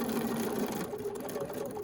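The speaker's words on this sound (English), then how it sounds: "take a couple of back stitches before stitching forward to the end of the line" A sewing machine runs steadily, stitching forward along a line on foundation paper piecing for a quilt block: a fairly quiet, continuous mechanical whir with no talk over it.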